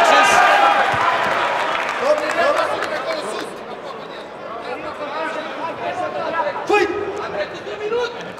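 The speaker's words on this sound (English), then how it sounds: "the crowd behind him shouting advice at the man in the ring" A boxing crowd shouts and chatters at a fight between Szilagy Aron and Sorin Tanasie, a loud murmur of overlapping voices with scattered yells and a few claps.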